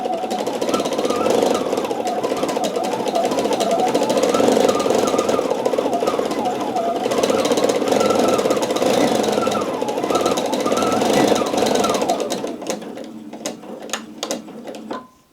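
A home sewing machine stitches free motion embroidery in a loud, rapid needle chatter whose speed rises and falls as the fabric is moved, then slows and stops near the end.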